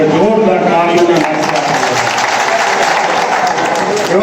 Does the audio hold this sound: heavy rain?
no